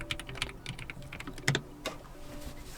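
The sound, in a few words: typing on a keyboard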